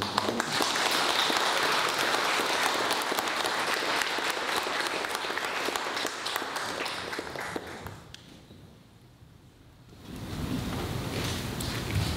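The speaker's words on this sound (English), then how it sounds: "Let's give him an applause." Wedding guests applaud inside a church, a dense, sustained wash of clapping for about eight seconds that dips almost to silence, then returns at a lower level near the end.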